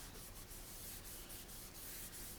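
Steady, continuous dry rubbing of a hand over paper being worked into a vellum-type sheet for junk journals, close and even with faint rhythmic strokes throughout.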